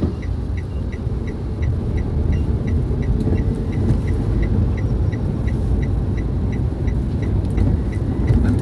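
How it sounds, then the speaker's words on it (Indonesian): A Laksmi Langgeng intercity bus passes by at night near a petrol station in Palembang, its engine a steady loud rumble over continuous road noise for the whole stretch, with no voices. "ini bus Laksmi Langgeng, teman-teman, yang sedang lintas"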